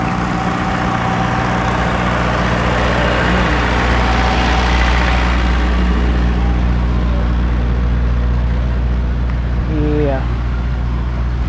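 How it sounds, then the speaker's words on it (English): A loud ice cream truck engine idles close by with a steady low drone at a Stars and Stripes Celebration in Fancher Davidge Park, Middletown, New York, while a person talks over it. "Don't know if you can hear me with the loud ice cream truck next to me"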